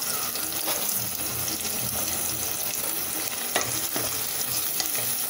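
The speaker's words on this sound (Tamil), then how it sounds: "வெங்காயத்தை நல்லா வதக்கிக்கலாம்." Onions sautéing in a pan with a pinch of salt for mushroom biryani, a steady close sizzle and frying hiss with repeated stirring scrapes and clinks, no talk.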